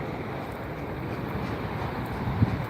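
Wind gusting steadily at a plane-spotting spot beside Los Angeles International Airport, a continuous low rumble buffeting the microphone.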